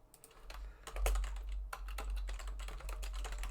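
Rapid typing on a computer keyboard fills the clip, a steady stream of close, crisp key clicks with a few louder strokes over a low background hum.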